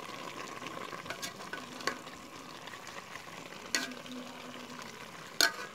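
Liver frying in a pan for Filipino igado, a soft, steady sizzle with a few sharp clicks of a utensil against the pan, fairly quiet throughout.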